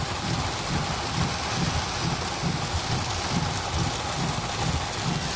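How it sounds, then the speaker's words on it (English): Heavy downpour drums steadily and loudly on surfaces nearby, a dense continuous hiss of rain with a low rumbling undertone, no voices. "It's been raining about 20 minutes"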